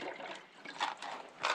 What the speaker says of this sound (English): I'll put all this water in as well.